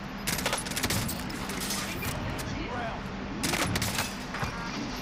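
Rapid automatic gunfire from Call of Duty Warzone in Verdansk rattles in dense bursts under a busy game mix, with a voice talking over it.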